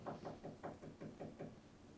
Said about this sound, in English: Yeah, I can hear someone knocking.